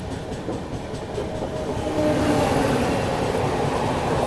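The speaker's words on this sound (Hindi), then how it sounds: "अभी देखो सामने से कितनी शानदार एक क्रॉसिंग आ रही है किसी ट्रेन की कर्व पे।" The Telangana Express, running New Delhi to Hyderabad, crosses on a curve after coming off a river bridge near Chandrapur and Ballarshah. Its wheels rumble and clack continuously, growing louder as the train draws nearer.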